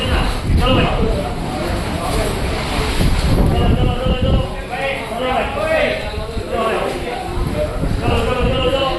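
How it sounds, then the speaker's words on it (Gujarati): Strong wind gusts at the Pavagadh Mahakali hilltop temple buffet the microphone with a loud, continuous roar, while people talk over it throughout. "જોરદાર પવન ફૂંકાય છે"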